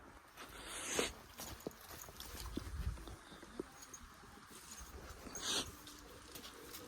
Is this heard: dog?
yes